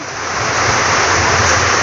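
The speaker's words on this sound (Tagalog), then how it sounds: "Grabe lakas ng ulan." Heavy rain pours down in a steady, loud, close broadband roar that swells slightly after the start and holds unbroken throughout, with no voices.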